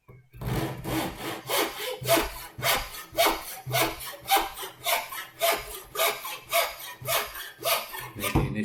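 A hand saw cuts a wooden tenon for a picture frame, its blade slightly blunt, making steady rhythmic back-and-forth strokes, about fifteen in a row, close and clear with no talking.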